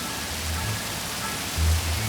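Steady rain falls as an ambience bed in an animated Hindi fairy tale, a soft continuous hiss with a low rumble that swells briefly near the end, with no voices over it.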